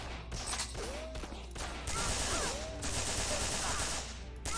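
Gunfire in the shooter game Banzai Escape, with several bursts of rapid shots in quick succession amid noisy game sounds, loud and dense with no talk.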